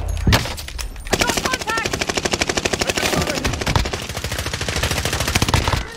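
Rapid automatic gunfire in Warzone Pacific, a loud sustained burst of closely spaced shots running for several seconds after a single sharp opening report.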